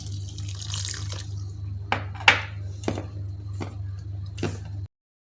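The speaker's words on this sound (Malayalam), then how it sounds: "ഇനി ഇത് നമുക്ക് വെള്ളം ഒഴിച്ചൊന്ന് കുഴച്ചെടുക്കാം." Water is poured into flour and the dough is mixed by hand for a homemade evening snack, giving a few brief wet splashes and soft squelches over a steady low hum, with no talking.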